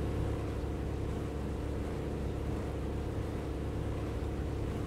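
Aircraft engine in the War Thunder flight simulator, a low steady droning hum resembling a car motor, running continuously and evenly with no speech.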